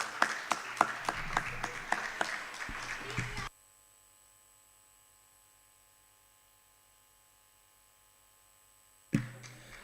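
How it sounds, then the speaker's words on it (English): A burst of dense clapping from an audience at a medical college conference, a few seconds of rapid claps that cut off abruptly into near silence, with a brief noise returning at the end. "Have a huge round of applause for him."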